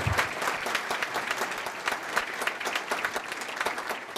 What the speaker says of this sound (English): let's have a big round of applause for both Tom and Rick